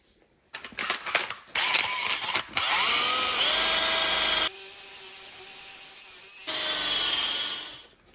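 Power buffer polishing an aluminum part on a 1979 Honda XR500 with standard metal polish, a loud steady whine with shifting pitch, stops and restarts, and a brief change in tone midway.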